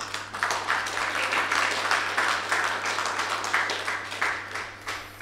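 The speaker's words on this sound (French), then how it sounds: "Applaudir madame, hein, vraiment." Audience applause at a political club gathering, steady clapping from many hands filling the room at moderate level with no talk over it.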